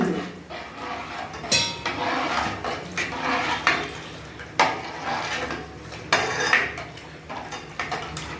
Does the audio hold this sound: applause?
no